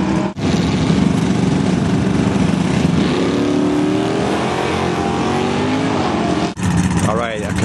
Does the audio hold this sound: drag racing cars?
yes